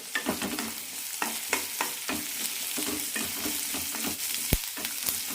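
Onion, ginger and green chilies sauté in a pan with a continuous close sizzle and frequent rhythmic spatula strokes, plus one sharp metallic clack near the end.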